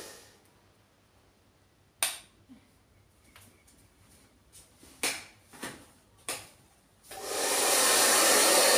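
A handheld hair dryer starts with scattered clicks and handling knocks, then roars into a steady, loud, close blowing rush that holds to the end.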